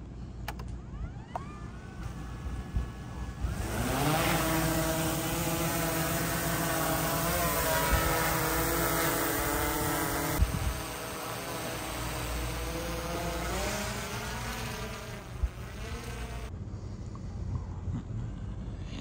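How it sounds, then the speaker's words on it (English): A camera drone is in flight toward a water tower. Its motors give a steady, loud buzzing whine that shifts up and down in pitch as it manoeuvres, with rushing wind noise underneath and no voices. "And let's get the drone in the air."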